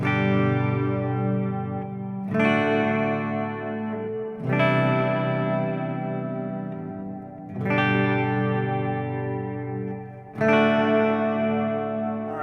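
Guitar chords strummed one at a time every two or three seconds through an Oceans 12 dual stereo reverb pedal, each ringing out in a wide, spacious reverb that blooms and slowly fades.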